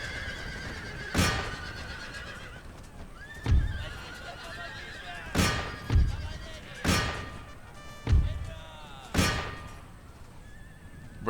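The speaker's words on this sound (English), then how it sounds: "Oh, we're gonna hear a lot of horses die now." Repeated horse whinnies and neighs from a battle in the video game Empire: Total War, about six sharp cries spaced a second or two apart over a low background rumble.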